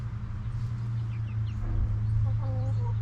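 Several chickens cluck and chirp softly over a steady low hum, with small peeping calls scattered throughout.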